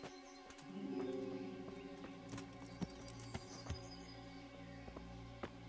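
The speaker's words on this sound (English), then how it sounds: "Bring the horses." Horse hooves clip-clop in the medieval video game Kingdom Come: Deliverance, scattered hoof strikes over a sustained low musical drone and faint birdsong, the steps soft and irregular rather than a steady gait.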